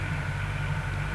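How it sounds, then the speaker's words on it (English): Distant farm tractors droning in the background during a New York hunting season outing, a steady low engine rumble blended with broad, hissing outdoor noise and no distinct pauses. "You could hear some tractors in the background."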